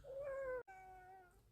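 A chocolate point Siamese cat gives a clear, drawn-out meow with a short break in the middle, close and fairly quiet over a light background hum.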